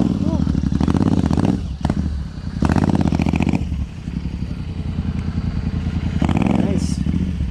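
Motorcycle engines rumble close by, revving and idling as they pull in, with voices talking over the noise.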